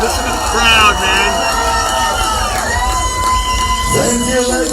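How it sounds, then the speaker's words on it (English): A crowd at a live rock show cheers and shouts loudly and continuously at a West End concert, with voices close over the dense, steady roar. "Listen to the crowd, man."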